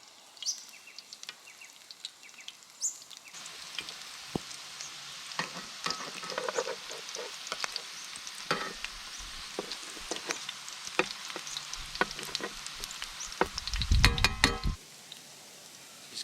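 Fish fritter balls fry over an open fire, a steady sizzle broken by scrapes and clatters as they are stirred and turned in the pan, building to a louder burst of frying near the end.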